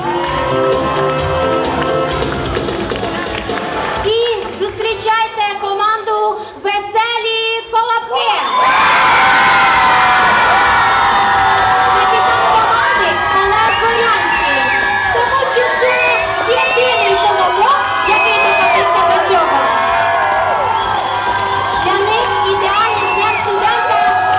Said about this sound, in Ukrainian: Ще раз ваші оплески команді Чі!